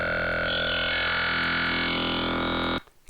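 A custom wavetable slice plays in an Ableton synthesizer as a sustained buzzy, harmonically rich tone with a slowly shifting timbre, loud and steady for nearly three seconds before cutting off abruptly.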